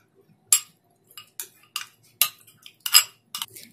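A spoon clinks against the side of a pot of pudding mixture in a run of sharp, separate taps, close and fairly quiet, with no voices.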